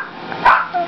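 A single short bark from a dog indoors, sharp and close, rising out of a quiet room in under a second.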